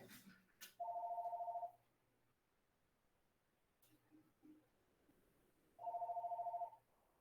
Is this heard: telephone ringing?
yes